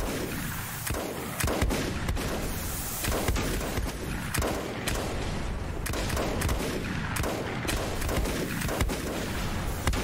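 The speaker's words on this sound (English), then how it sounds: "I'm gonna run out of mortar shells. I just went through 40." A mortar lobs shells in the video game Volcanoids: loud, dense, repeated booming blasts and impacts pile up one after another without pause, with almost no talk.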